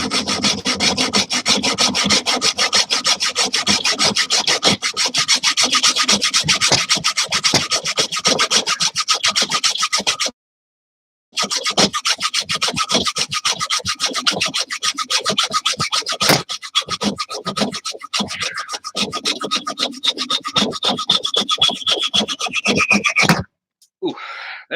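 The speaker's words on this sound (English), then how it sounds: "that generates a lot of heat in the freaking metal, cutting it with a hacksaw like that" A hacksaw cuts through metal in rapid, even back-and-forth strokes that give a harsh rasping rhythm. The sawing stops for a moment partway through, then picks up again and continues at a slightly uneven pace.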